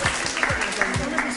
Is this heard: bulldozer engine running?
no